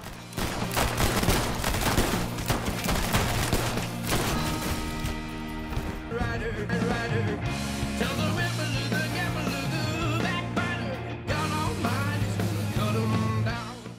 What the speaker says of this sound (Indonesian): dia harus menerima berondongan peluru dari Zero, Brandon, dan LD